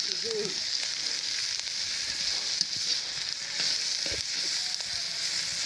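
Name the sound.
pumpkin peel frying in a pan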